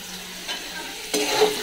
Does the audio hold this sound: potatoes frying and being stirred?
yes